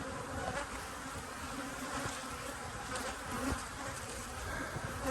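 Honey bees drone steadily at a single-deep hive topped with a queen excluder and honey super, a dense continuous buzz with bees flying close around the entrance outdoors.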